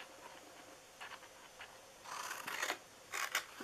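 Scissors snipping through paper for a small handmade Easter treat box, a few quiet close cuts in short bursts with pauses between them.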